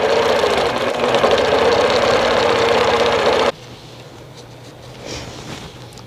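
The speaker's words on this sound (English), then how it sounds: "you want to try and make sure that you're stitching super close to that edge" A longarm sewing machine stitches casings into canvas leaders with a loud, steady, rapid mechanical whir that cuts off abruptly, leaving faint handling noise.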